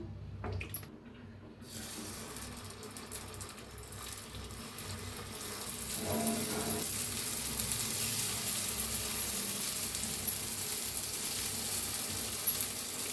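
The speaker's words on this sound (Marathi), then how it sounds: "दुसरी प्याज शेवडूया आपण थोडं थोडं आणि तेल घालायचं" Sliced onion and oil sizzle in a hot pan with a soft, steady frying hiss that grows fuller and louder about halfway through and then holds, with no voices.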